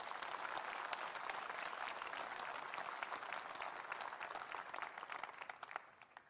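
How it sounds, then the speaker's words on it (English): Conference hall audience at the Conservative Party Conference in Manchester applauding, a sustained wash of many hands clapping at moderate distance that thins slightly toward the end. "Let's give them a round of applause for their contributions."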